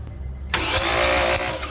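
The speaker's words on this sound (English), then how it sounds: "So I'm gonna have my wife crank it over." A car's engine cranks over with a steady whirring starter drone, loud and close, with no catch. The car is a cheap used one with a suspected broken timing belt.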